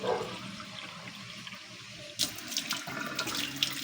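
Water pours into a cooking pot of bitter gourd, a steady splashing stream that grows louder and brighter partway through, running continuously at close range with no talk.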